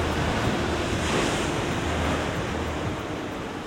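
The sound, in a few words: ocean waves crashing on the shore of a seal colony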